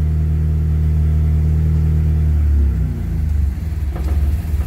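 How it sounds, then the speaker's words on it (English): A 1995 Eclipse with a manual gearbox idles in neutral in a garage with a deep, steady rumble; when the clutch is released the engine note shifts and loads down into an uneven throb, though the car creeps forward when it should not. "Now watch when I let go of the clutch."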